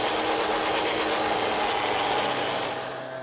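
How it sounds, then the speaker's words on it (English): A 5-inch wire brush spun on a right angle grinder scrubbing a stone wall during cultured slate veneer work, a loud continuous close-up whirring rasp that holds steady before easing off at the end. "What I'm going to do is come behind you with this 5-inch brush on a right angle grinder"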